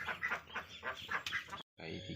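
Ducklings on a duck-breeding farm give quick, close, high peeping calls in a rapid string of short bursts, ending after a brief pause with a final cheep.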